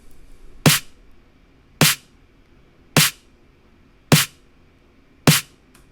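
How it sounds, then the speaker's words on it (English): Five evenly spaced, sharp EQ'd snare drum hits with a bright, cutting top end and a boosted low body around the bottom, each ringing briefly, alone and fairly loud. "Now it sounds like a really good snare drum."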